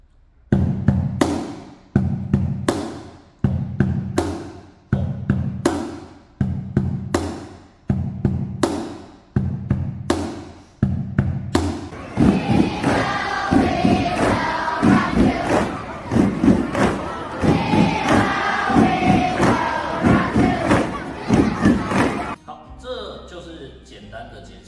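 A rhythm played on a cardboard box drum: two low thumps then a sharp slap, repeating steadily, followed by a loud crowd stomping and shouting along before a brief quieter ending.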